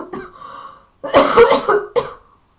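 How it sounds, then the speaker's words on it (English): A person coughs several times in two bursts, close and loud, with a short pause between fits. "I'm just coughing a lot."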